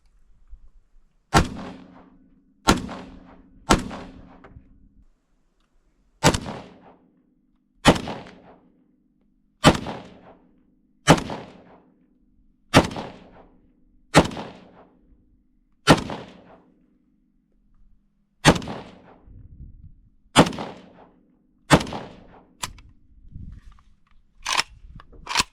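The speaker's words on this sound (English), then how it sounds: "I'll just shoot the remainder that I have after this, have a little fun." Single shots from a Russian AK-74 semi-automatic rifle ring out one at a time at a steady pace, about a dozen loud sharp cracks each with a short decaying echo, fired outdoors with no talking.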